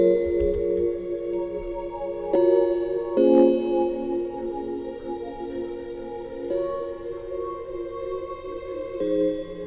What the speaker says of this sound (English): I went ahead and I played these chords right here in Omnisphere.